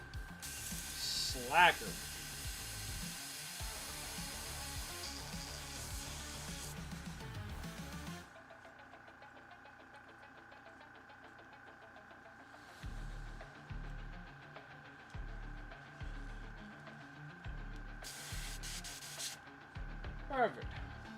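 Spray can priming an Imperial Knight miniature for Warhammer 40K, heard as broad hissing bursts for several seconds early on, then intermittent short sprays later, with speech over parts of it.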